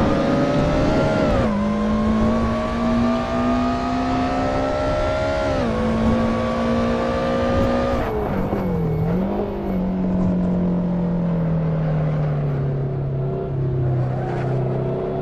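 A race car in the Assetto Corsa driving game holds a loud, steady engine drone through clean laps, with its pitch dropping sharply at gear shifts and then climbing again, alone without any voices.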